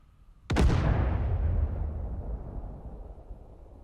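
A single loud artillery explosion in Digital Combat Simulator, with a sharp blast onset followed by a long rumbling decay that fades over several seconds, with no voices.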